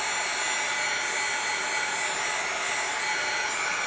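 A hair dryer blows steadily at close range, drying paint on craft wooden blocks. It makes a loud, continuous whooshing roar with no pauses and no voices.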